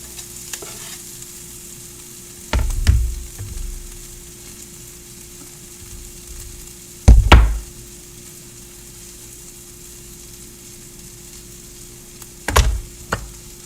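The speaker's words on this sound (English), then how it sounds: "I'm going to throw in the garlic." Garlic fries quietly in a pan beside barramundi with a faint continuous sizzle. Three louder bursts of stirring or scraping come at spaced intervals, and nobody speaks.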